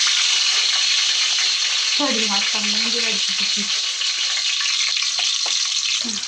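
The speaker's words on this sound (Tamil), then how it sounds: "வெந்தயம் நல்லா பொரியட்டும்" Fenugreek seeds, spices and onions sizzle and crackle steadily in hot oil for fish curry, with a brief warbling tone rising and falling midway.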